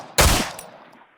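A single sharp, loud M19 gunshot in the Miscreated video game, a sudden crack followed by a reverberating tail that fades over about a second.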